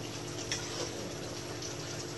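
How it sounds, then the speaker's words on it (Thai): Steady bubbling and hissing of water boiling in a pot, a constant low rumble close by with no voices. "ตอนนี้น้ำของเริ่มเดือดแล้วนะครับ"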